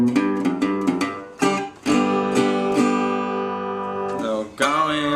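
A Delta blues style ending lick played on slide guitar: a run of plucked, ringing notes with sliding pitch bends, then a sustained close-mic'd chord that settles and fades, with no voices.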